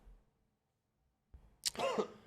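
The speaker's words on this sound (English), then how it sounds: "My cough." After near silence, a single short, harsh cough bursts out close by, followed by a brief breathy rasp.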